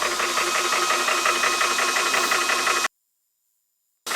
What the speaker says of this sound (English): So I'm used to these things being very loud, and this one isn't quiet by any means, but it is not as loud as I expected.